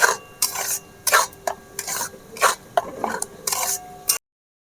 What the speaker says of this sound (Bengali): 15 মিনিট ধরে এইরকম আমি হালকা জালে নেড়েই চলেছি